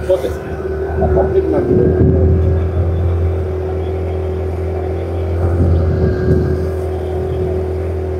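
A boat motor drones steadily at close range on a lake, a low humming engine note that swells slightly, with people talking over it.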